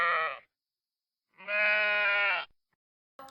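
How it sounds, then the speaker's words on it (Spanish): A sheep bleating in a farm-animal sound sequence, loud close calls: one short bleat, a long drawn-out bleat after a pause, then the start of another. "escucharemos el sonido de la oveja"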